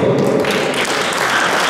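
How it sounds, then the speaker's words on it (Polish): A table tennis match crowd gives dense, steady applause for the players, loud and close, with no talking. "Proszę o gorące brawa dla zawodników, a w szczególności dla Marka Badowskiego."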